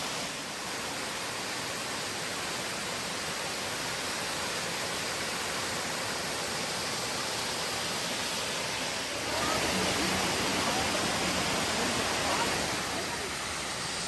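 Crabtree Falls in Virginia sends a steady, broadband rush of falling water heard from a trail viewpoint, constant and moderately loud, swelling briefly near the end.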